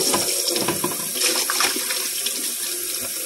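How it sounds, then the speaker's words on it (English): Tap water running steadily into a sink while coffee filters are rinsed, a continuous splashing rush with small sloshing variations, close and fairly loud, no talking. "Rinse your coffee filters out."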